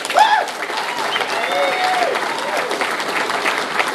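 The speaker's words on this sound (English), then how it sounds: "How about give me a round of applause if you're happy about the future" Students in an audience applaud steadily for about four seconds, broadband clapping spread across the room with a few cheers and whoops rising over it near the start.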